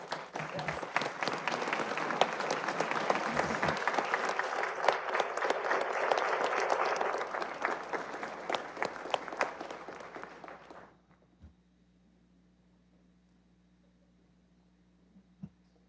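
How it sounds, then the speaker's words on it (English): A city council meeting crowd gives a standing ovation for employees, with dense, sustained clapping for about eleven seconds that then stops abruptly, leaving a quiet room with a few faint sounds. "I want us to give a round of applause, a standing ovation for all of these employees."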